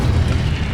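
The Incendio fire spell being cast in Hogwarts Legacy, a brief, dense rumbling whoosh of flame, loud and continuous with heavy low-end boom and no pauses.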